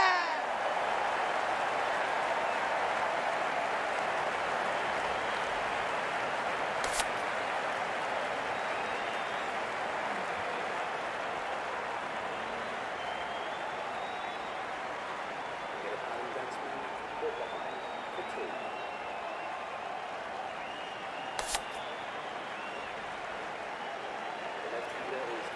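Steady crowd applause and cheering from a cricket video game, an India versus Australia one-day international in Cricket 19, a continuous broad wash of clapping that fades slightly over time with no talk.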